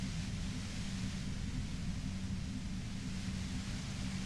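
Violet-white noise near a compressor in the game Disco Elysium: a steady, overwhelming broadband hiss with a droning low hum beneath, constant and unbroken throughout with no talk.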